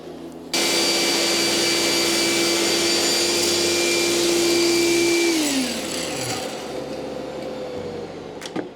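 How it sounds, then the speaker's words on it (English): An electric fan blows steadily, a loud broadband whoosh with a steady hum that holds for several seconds, then the motor pitch drops as it winds down while airflow noise continues. "The noise that you are hearing is not because of my microphone, it is because of the fan that is blowing on me"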